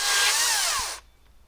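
A Makita DUC 353 36V cordless chainsaw cuts through wood on a sawhorse, a loud, steady high whine with falling pitch as it bogs into the cut, stopping abruptly near the end.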